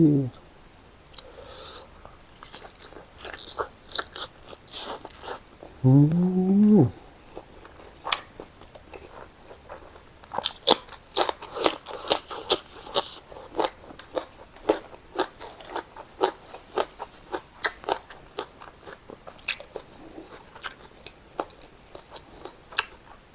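Crisp crunches and bites into grilled Isan sausage, irregular and close, repeated through the meal with brief chewing sounds between and a short spoken remark partway through.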